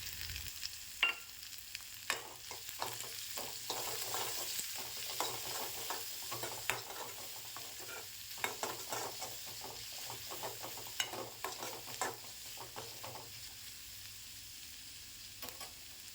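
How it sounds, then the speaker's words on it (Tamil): Curry leaves frying in an oily pan for egg bhurji give a steady, quiet sizzle throughout, broken by intermittent sharp crackles and pops and occasional stirring scrapes, with no one speaking. "இப்போது ஒரு கொத்து கருவேப்பிலை சேர்த்து நல்லா ஃப்ரை பண்ணிக்கலாம்."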